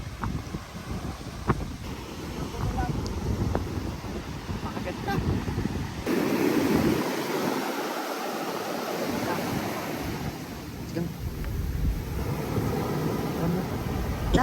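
Strong ocean waves surge and wash continuously along a shore in northern Luzon, heavily mixed with gusty wind noise buffeting the microphone, loud and close throughout.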